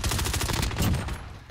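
Rapid bursts of video game gunfire crackle in quick succession, fairly quiet and dense at first, then thinning out and fading toward the end.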